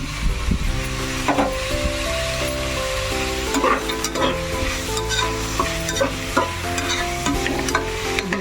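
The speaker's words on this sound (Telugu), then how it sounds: "ఈ పేస్ట్ వేసిన తర్వాత ఫ్రై అవుతూ ఉంటుందండి ఇప్పుడు నేను ఈ జీడిపప్పులు కూడా వేసేస్తున్నాను" Cashews and coconut paste fry in a pan for coconut rice, a steady close sizzle broken by repeated scraping stirs, continuous throughout with no talk.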